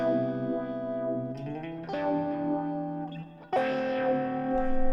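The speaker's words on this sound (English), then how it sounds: "they're going to actually almost sound like a vocoder" Sustained, buzzy synthetic chords from an Axe-Fx III resonator effect on guitar, with a robotic, vocoder-like timbre, shifting to new chords every second or so, loud and close with no voices.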